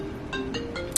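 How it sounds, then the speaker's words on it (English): An incoming call sets off a phone ringtone: short electronic tone bursts repeat at a steady rhythm, near and clear, with no talking. "That is a phone call from my mother"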